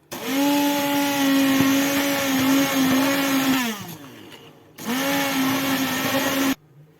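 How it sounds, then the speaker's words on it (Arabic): A kitchen blender purées cooked red lentil soup with a loud, steady motor whine that runs for about three and a half seconds, drops away, then starts again in a second shorter burst before stopping. "راح ناخذ الميكسور فوالا وراح نبدا نميكسي فيها"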